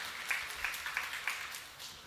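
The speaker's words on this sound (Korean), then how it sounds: "박수 한번 쳐주시다." Brief scattered applause from a church audience, a few distinct claps over about two seconds, fairly faint and alone.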